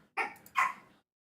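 Indoor puppies give two quick, sharp barks close by, the second slightly longer and yelping, with quiet in between and after.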